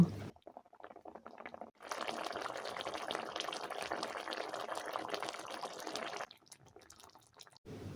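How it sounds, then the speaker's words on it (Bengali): Raw banana koftas simmering in curry, a steady bubbling and hissing that swells in for several seconds and then drops away, with quieter, sparse sounds before and after. "কোপ্তাগুলো দেওয়ার পর এটাকে কিছুক্ষণ ফুটিয়ে নেব।"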